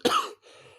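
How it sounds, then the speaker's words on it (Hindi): A single sharp cough from someone feeling unwell, loud and abrupt, followed by a short faint breathy trail and quiet room tone, with no talking. "थोड़ा तबीयत गड़बड़ होने की वजह से खांसी आई हुई।"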